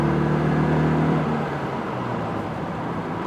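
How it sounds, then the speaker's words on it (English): A 1987 Citroën 2CV's small two-cylinder engine drones steadily at full throttle uphill around 62 km/h, a constant strained hum with a slight drop in pitch partway through. "I am foot to the ground going up this hill at 62 kilometers per hour."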